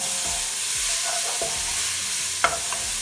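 Leek sautés in a pot for spaghetti squash soup, giving a steady close sizzle, with a few soft scrapes as it is stirred and one sharper clink near the end.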